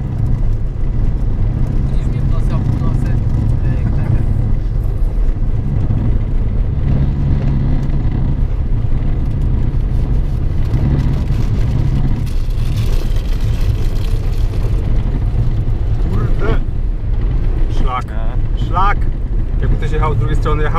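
An old Polish car grinds along an icy mountain road in the Bieszczady, its engine droning loud and steady with low rumble and cabin rattle throughout. Voices talk over the noise in places.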